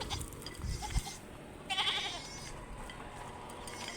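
A goat bleats loudly once, a nasal wavering call, over outdoor background noise and faint rustling.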